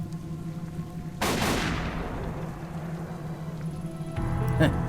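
A single gun blasting open a lock in the video game Tokyo Dark, one sharp, loud report with a ringing decay over quiet game ambience, then a small clatter just after.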